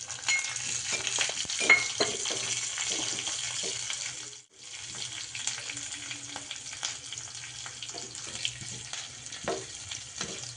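Mustard seeds, cumin and curry leaves sizzle in hot oil, a steady close crackling hiss with scattered pops and a brief dip in the middle.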